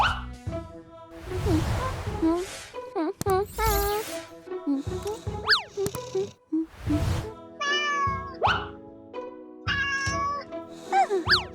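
A cat meows repeatedly, high and wavering, mixed with cartoonish voices and other animal-like yelps; busy and lively throughout.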